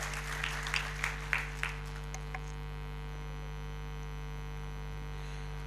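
Brief applause at a student felicitation event, sharp claps in the first two seconds that quickly thin out and stop, over a constant loud electrical mains hum that persists to the end.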